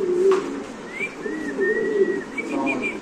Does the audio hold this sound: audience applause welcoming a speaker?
no